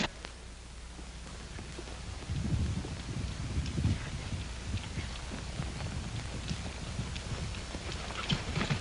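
Hooves clip-clop at a steady walking pace in a 1939 western film, moderately close, over a low rumbling background with no talking.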